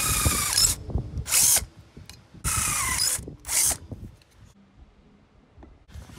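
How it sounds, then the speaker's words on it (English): A power drill bores a 2 mm pilot hole into the exhaust of an Indian FTR1200 motorcycle in four short, shrill bursts of whining, separated by quiet pauses and faint handling clicks. "Now I'm just starting with a 2 millimeter pilot hole."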